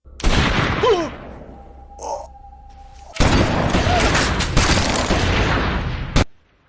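Gunfire and heavy booms from a fierce fight scene in an action film about a hitman: loud, dense bursts of shots, a short lull, then a long sustained barrage that cuts off abruptly.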